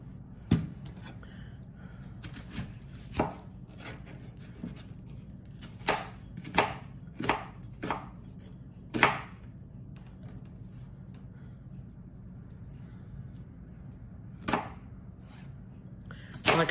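An onion is chopped on a cutting board for Thanksgiving prep, giving sharp knife knocks in irregular bursts and clusters over a quiet room background, with no talking.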